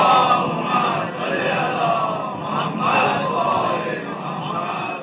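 Large gathering at a Muharram majlis in Chennai raising religious slogans together, a dense wash of many voices shouting in unison that swells and surges steadily throughout, loud and close.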